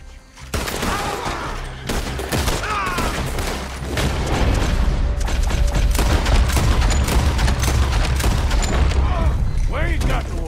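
Dense bursts of gunfire and booming shots in the Western video game Red Dead Redemption, loud and continuous with rapid volleys layered over one another, a voice shouting briefly at the start.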